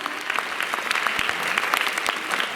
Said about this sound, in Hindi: तालियों के साथ इनका भी स्वागत